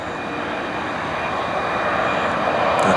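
Endeavour Air Bombardier CRJ regional jet on final approach to runway 18 at Valdosta Regional Airport, its steady engine roar filling the scene and slowly building louder as the aircraft nears.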